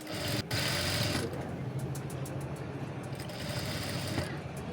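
A sewing machine stitching fabric for potli buttons, running as a continuous close mechanical whir and clatter that briefly pauses near the start.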